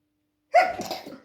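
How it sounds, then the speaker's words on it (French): A single sharp sneeze, close and sudden, after a moment of silence. "Excusez-moi,"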